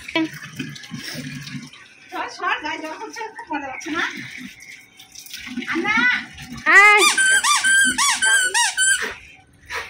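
A Labrador plays with a squeaky toy, producing bursts of high, rapid squeaks that build into a loud run near the end, mixed with someone talking and some splashing water.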